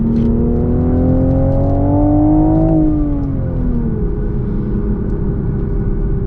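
A 2023 Toyota GR Supra 3.0 with a six-speed manual gearbox accelerates hard in second gear on a track, its engine note rising loud and close, briefly dipping, then droning steadily on.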